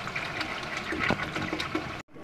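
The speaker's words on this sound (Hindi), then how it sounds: "तो हम 2 लीटर पानी डाल देंगे इसमें।" Two litres of water poured into a pot of boiling chicken and potato pulao with one and a half kilos of rice, a steady close rushing gush that cuts off abruptly near the end.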